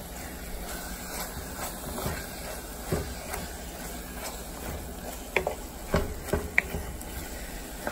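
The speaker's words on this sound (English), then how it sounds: "and then our Creole seasoning. Mix that in very well." Chili in a pot over a medium-low flame is stirred with Creole seasoning, a soft continuous sizzle with irregular scraping strokes of a spoon, close and unaccompanied by speech.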